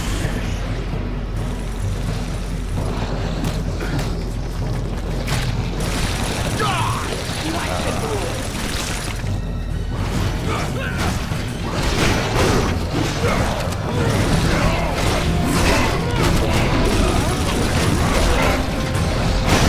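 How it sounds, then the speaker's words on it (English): Heavy machine-gun fire and mechanical clatter in the action game Castlevania: Lords of Shadow 2, loud and dense, running continuously with crashes and whooshes layered over a constant low rumble. "Machine guns firing."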